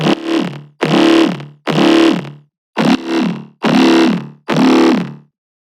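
Deep, dark dubstep wub bass from a Serum synthesizer plays alone in six loud, distorted, wobbling notes, each about a second long with short gaps between them.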